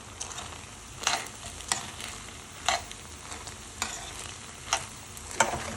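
Butter cooks in a pot of rice pilaf. A faint, steady sizzle carries on throughout, and soft scrapes or clinks sound every second or so, with no voices.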